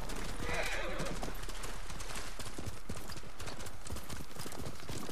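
Horse hooves clip-clop in a steady, brisk rhythm over ground in the video game Ghost of Tsushima, several animals close by amid a constant background rumble.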